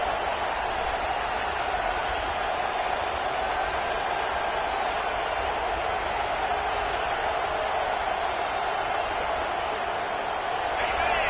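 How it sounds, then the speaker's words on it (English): Stadium crowd at a football game during an injury break, a steady dense roar of many voices filling the air continuously and evenly throughout, with no single clear cheer or burst standing out. "This crowd bringing the energy and noise early."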